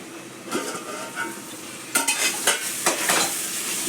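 Tomato rice being stirred in a cooking pot, the spoon scraping and clattering against the pot in a few quick, close strokes over a soft sizzle of oil.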